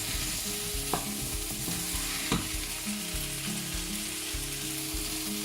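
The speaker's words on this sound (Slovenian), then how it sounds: "Na tej čebuli krompir pražimo do nekje približno do polovice." Potatoes fry with onion in a pan and get stirred, giving a dense continuous sizzle broken by a couple of sharp scraping stirs.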